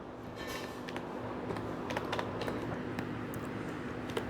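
Steady typing on a computer keyboard while entering Excel VBA code, with a quick series of irregular key clicks over a constant faint background hum, close and moderately quiet, no talking.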